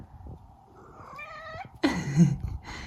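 A cat wanders nearby, first giving a low, soft purr, then a rising drawn-out meow followed by two louder, close chirping meows, heard clearly without talk.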